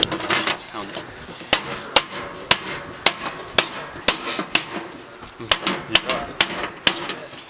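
A rubber hammer repeatedly striking metal to conform its shape in a bio-char workshop, sharp close knocks in an irregular quick rhythm, with background voices and clatter.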